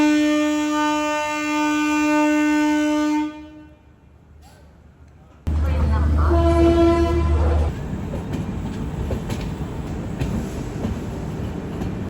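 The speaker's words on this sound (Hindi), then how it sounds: "यहाँ पे सांप की तरह निकल रही है हमारी ट्रेन।" A Swarna Jayanti passenger express running on the rails, its long steady horn blaring loudly for several seconds, then a brief lull before heavy rumbling and clatter of the moving train take over.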